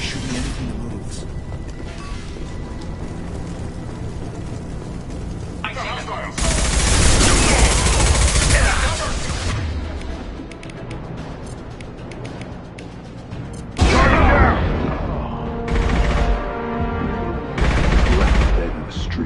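Mass Effect 2 firefight: loud bursts of rapid gunfire alternate with quieter stretches of distant shots and rumble, with heavy volleys returning near the end.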